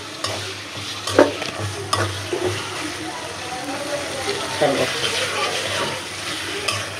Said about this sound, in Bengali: এটা সুন্দর করে একটু কষাকষি করে অল্প একটু পানি দেবো